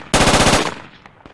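A short, loud burst of rapid automatic gunfire in the Project Reality shooter, about eight rounds in a quick even rhythm, followed by a fading tail and faint distant shots.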